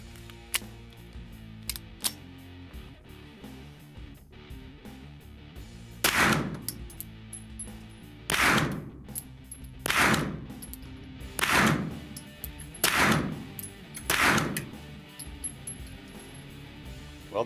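Suppressed shots from a Springfield Hellcat RDP pistol fired at an indoor range, six sharp muffled reports spaced a second or two apart, preceded by a few lighter clicks and thuds of handling.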